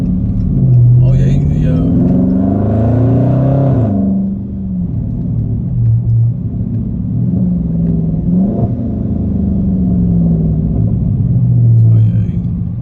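Dodge Challenger Hellcat engine, a loud, deep rumble that revs up on light throttle and then falls back, rising and easing again, heard up close from the car with voices talking over it.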